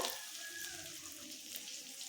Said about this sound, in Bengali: পেঁয়াজ রসুন আমার ভাজা ভাজা হয়ে গেছে